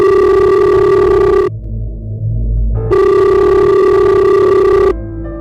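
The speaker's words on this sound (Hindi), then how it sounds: "कि पॉकेट में रखा उसका फोन बज उठा।" A mobile phone ringtone plays loudly and up close as a repeating bright, steady melodic tone pattern with a brief pause between cycles.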